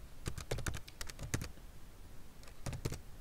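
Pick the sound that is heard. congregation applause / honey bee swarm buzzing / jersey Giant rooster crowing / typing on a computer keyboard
typing on a computer keyboard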